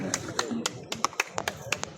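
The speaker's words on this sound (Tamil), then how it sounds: "கைத்தட்டு சாமி, கைத்தட்டு" A few people clap at a retirement ceremony, with irregular, moderately loud claps scattered over background voices.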